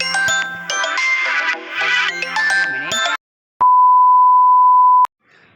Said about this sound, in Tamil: நடுவில் வந்து ஒரு ஃபோன் கால் வந்திருக்கோம்.